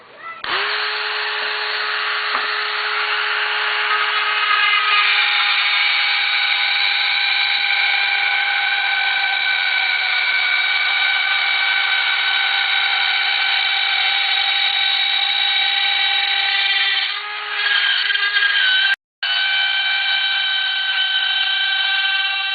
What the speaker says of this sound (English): the router jig attached to it. I will go ahead and get it going again.